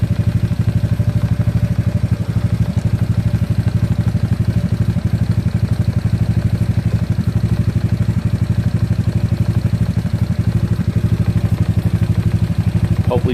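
A GY6 scooter engine runs steadily at close range with a constant low mechanical drone and clatter, engine speed rising slightly, with no talk over it.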